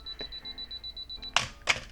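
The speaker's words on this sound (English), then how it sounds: "it's going to count down with beeping, fast beeping, and then it will take the picture" A Canon AE-1 Program film camera's self-timer emits a rapid string of evenly spaced high electronic beeps, followed by two sharp mechanical shutter clicks, heard close up in a quiet room.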